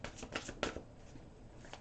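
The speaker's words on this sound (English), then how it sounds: "Another shuffle." A deck of tarot cards is shuffled by hand: a few soft, quick riffles and flicks close by, then quiet rustling. No one speaks.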